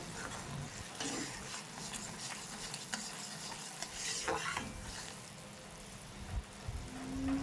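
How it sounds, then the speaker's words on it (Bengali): Sugar syrup with cardamom boils in a pan for peanut khaja, a constant soft bubbling hiss with occasional stirring scrapes, close and fairly quiet, with no talking. "একটু এলাচ দিয়ে শিরাটা ভালো করে ফুটিয়ে নেব"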